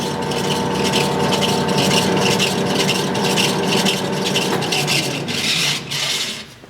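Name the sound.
Oster revolving die head pipe threader running in reverse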